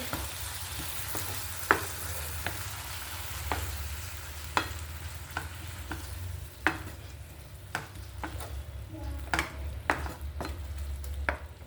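A prawn roast sizzles steadily in a pan while a spoon stirs it, with sharp scraping clicks at an uneven rhythm over the continuous frying hiss, close and clear with no talk.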